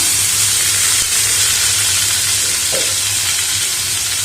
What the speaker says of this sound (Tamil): இப்போ 1 நிமிஷம் லேசாக கிண்டி கொடுத்துக்கோங்க.